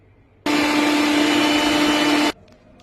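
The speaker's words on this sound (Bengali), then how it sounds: "চলো ফার্স্টে মিক্সিতে এটা ব্লেন্ড করে নিই" An electric mixer grinder blends matar dal with ginger and green chili in one loud, steady whirring burst of just under two seconds, starting and stopping abruptly in an otherwise quiet kitchen.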